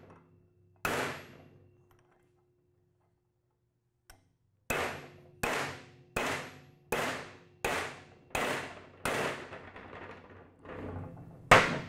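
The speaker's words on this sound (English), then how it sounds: "you're going to have to press them in either with a hammer and a punch" Hammer blows driving wheel studs into a disc brake rotor with a punch during a disc brake conversion kit install: a single strike, a lone faint tap, then a steady run of eight loud, evenly spaced metallic hits, close up with no talk.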